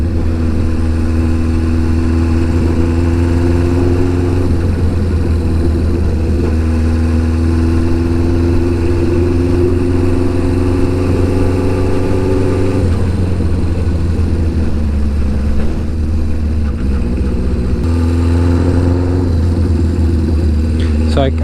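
Honda CB550 motorcycle engine on a test ride, a steady loud mid-pitched drone that rises and falls with gentle revving and gear changes throughout, with someone talking over it.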